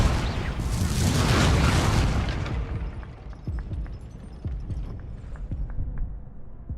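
An Incendio fire spell cast in Hogwarts Legacy erupts in a loud whooshing blast of flame that fades away, followed by scattered faint pops and thuds.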